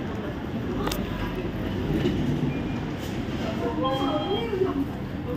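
Steady low rumble from inside a moving train, with a soft rhythmic rattle and occasional squeaks, while people talk quietly nearby.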